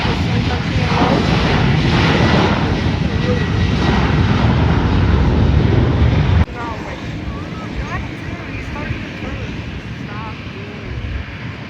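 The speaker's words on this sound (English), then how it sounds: "this is soon to be an Allegiant Boeing 737-800 after their merger with Sun Country Airlines" A Boeing 737-800 jet roars loudly and close, with wind buffeting the microphone, then the noise drops abruptly to a lower rumble as a voice talks over it.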